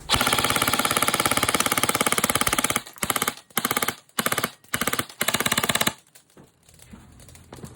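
Raven TAC 1 AEG airsoft rifle at 400 FPS firing full auto: a loud, rapid mechanical rattle sustained for about three seconds, then several shorter bursts, fading into quiet handling noise.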